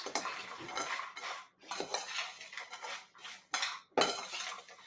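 Food dusted with cinnamon and pepper being tossed in a dish, several close bursts of clattering utensils and scraping against the dish in separate rounds, with short pauses between them and no voices.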